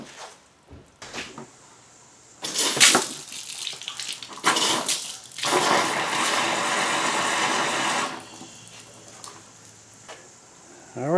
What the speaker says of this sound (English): I'm going to reverse those hoses again and flush it in the other direction again